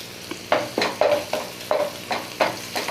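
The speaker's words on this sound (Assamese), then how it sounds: "আৰু পিঁয়াজখিনি ৰংচোৱা হ'লেকৈ মই এনেকৈ ভাজিম।" Onions with turmeric fry in a pan, a close sizzle broken by rhythmic stirring scrapes about twice a second, each stroke rising then fading back into the hiss.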